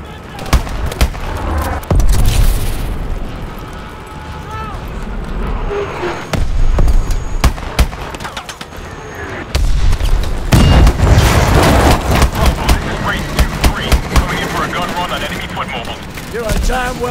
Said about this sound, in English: Pressure explosions. This place is going up.